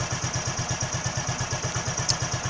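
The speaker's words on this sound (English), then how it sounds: "I think it's a really nice idle, really smooth, and the engine is much more quiet than it was before." A 1961 Heinkel Tourist 103A2 scooter engine idles smoothly, a steady close-up putter with an even, regular pulse and no voices.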